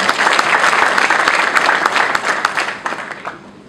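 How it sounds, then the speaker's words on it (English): A crowd applauds steadily with dense clapping, gradually thinning and fading toward the end. "May we all give ourselves a round of applause for Kwese"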